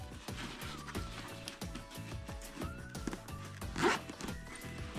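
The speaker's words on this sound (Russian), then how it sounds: "Застегнем до конца." A zipper on a 2021 Carrello Optima 2-in-1 stroller is pulled closed, a long run of rapid ratcheting clicks with a brief louder rasp near the end, close and alone without speech.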